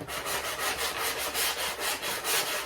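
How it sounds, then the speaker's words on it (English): Fine-grit sandpaper rubs back and forth over the edges of a 12-inch scale model cantina build, giving a rhythmic scratchy rasp of about a dozen quick even strokes, close and alone. "I'm going to use a little bit of fine grit sandpaper"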